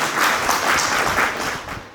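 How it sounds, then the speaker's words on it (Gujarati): An audience at a Lions Club eye camp at a hospital in Bhuj claps warmly to welcome a donor family, with dense, steady applause throughout. "મિત્રો, આપણે ખૂબ જ તાળીઓથી દાતા પરિવારને આવકારીએ."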